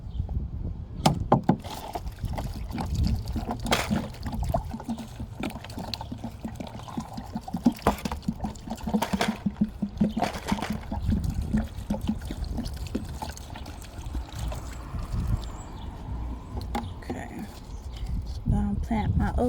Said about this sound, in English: So let's water it in.